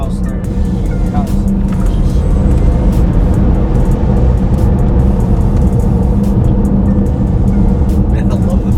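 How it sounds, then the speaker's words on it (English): A Tesla Model S Plaid accelerates, heard from inside the cabin as a loud, steady road and motor rumble that holds constant throughout. "Man, I love the feel of the acceleration of these cars."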